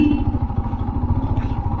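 A motorcycle engine putters steadily at low revs, chugging slowly through deep mud on a narrow landslide-damaged mountain road during a winter ride, close and continuous with rough clattering pulses.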